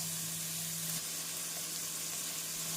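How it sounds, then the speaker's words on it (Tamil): Ginger garlic paste fries with chopped onions in a hot pan, giving a soft, continuous sizzle and crackle at low level with no talking. "இஞ்சி பூண்டு விழுது சேர்த்து நன்றாக வதங்கிய பின்"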